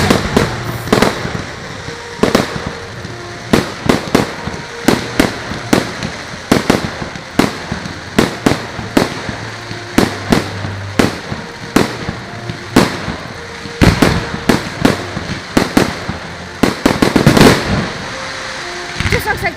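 Bonfire night fireworks and rockets go off outdoors, a steady series of sharp bangs and crackles in irregular rhythm, with a denser cluster toward the end.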